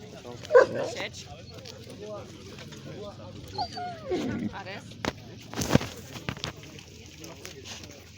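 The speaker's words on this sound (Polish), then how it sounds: "Grzeczny piesek przy nocy chodzi" A small dog whimpers and yips softly a few times, fairly close, with quiet rustling and a voice murmuring in the background.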